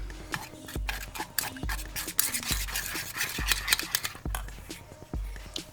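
Honey mustard dressing gets stirred briskly in a bowl, a spoon scraping and swishing in a quick regular rhythm of about eight strokes, close and crisp, with no talking.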